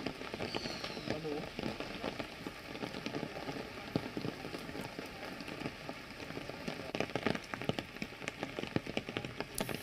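Heavy monsoon rain pours steadily over Nahan in Sirmaur, Himachal Pradesh, a dense, continuous hiss of drops striking surfaces, fairly faint and distant, with scattered louder splashes throughout and no voices.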